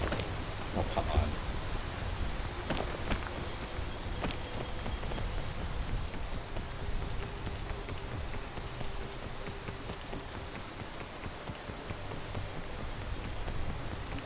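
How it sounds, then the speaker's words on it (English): Steady rain falls throughout, a dense broadband patter on surfaces with scattered sharper drop hits, fairly close and continuous without pause. "And sometimes the rain takes forever."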